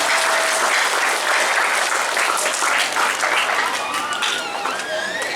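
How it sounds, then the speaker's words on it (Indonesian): Sustained, loud applause from a crowd at a Ramadan gathering, dense continuous clapping throughout with faint voices mixed in beneath it. "Tepuk tanganlah buat malam ini"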